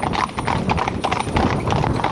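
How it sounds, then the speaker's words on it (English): A five-in-hand carriage team is driven with steady, overlapping hoof clip-clops throughout, the loud, close hoofbeats mixed with someone talking over them. "Real nice pony."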